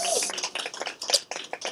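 Panel discussion audience applauding a DJ being introduced: a short burst of clapping with voices mixed in.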